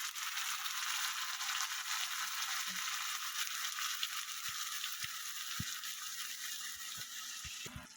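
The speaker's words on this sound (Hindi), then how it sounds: "ये देखिए, मैंने पेस्ट डाल दी और इसको थोड़ा सा मैंने फ्राई किया है।" Masala paste for Goan egg curry fries with browned onion in a pan, a steady hiss of sizzling oil. A scattering of sharp spoon taps and scrapes comes through as it is stirred, and no one speaks.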